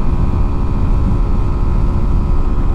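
A Sinnis Terrain 125 adventure motorcycle, 2019 model, revs hard near its redline in fifth gear at speed, a loud continuous engine drone with steady harmonic whine and wind rumble, no talking.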